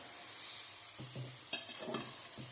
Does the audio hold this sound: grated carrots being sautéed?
yes